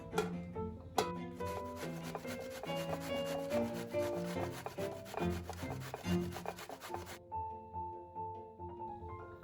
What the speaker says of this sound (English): we will need a grater.